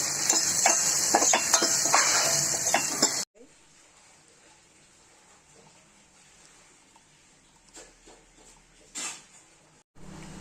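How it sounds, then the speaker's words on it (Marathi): Vermicelli and dry fruits such as almonds and cashews sizzle while being stirred in a pan for kheer: a steady frying hiss for a few seconds, then quieter scraping and clinks after the sizzle drops away. "1-2 वाट्या थोडे परतून घेते मी शेव. त्यामध्ये आता मी ड्रायफ्रूट टाकते."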